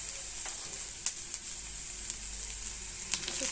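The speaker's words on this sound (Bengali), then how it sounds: "এবার আমি এটাতে তেলটা দিয়ে দেব, মাছের তেলটা" Fish oil poured into a pan of reddened onions and chilies crackles in a continuous, close sizzle, with a few sharper pops and light spoon taps over the frying.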